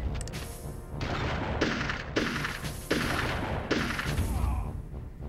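Shotgun blasts from the video game Army Men: Sarge's Heroes, about five sharp reports at roughly one-second intervals over a steady game-noise background.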